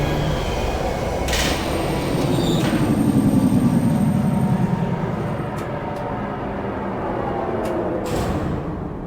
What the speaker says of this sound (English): Tiny train.